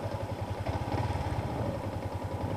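A manual-transmission motorcycle engine runs steadily at mid revs with a rough, pulsing low throb while the rider clutches and shifts up through the gears, close and fairly loud with no talking.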